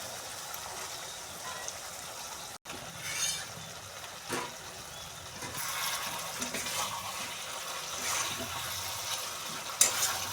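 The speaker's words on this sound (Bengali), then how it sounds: "মশলাগুলোকে কষিয়ে গ্রেভি করে নিয়েছি, এবার মাছগুলো দিয়ে দেবো ভাজা।" Fried catla fish go into a simmering spiced gravy with a close, wet bubbling and splashing, a sharp break and a few soft clatters, then continued sputtering, with no voice.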